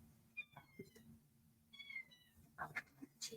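Several cats meowing indoors, a few short, fairly faint cries and chirps scattered over a few seconds against a low background hum.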